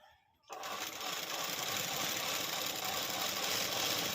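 A sewing machine runs steadily, stitching the folded lining of a readymade blouse during an alteration, with a continuous close whirring hum that starts after a brief quiet moment and holds to the end.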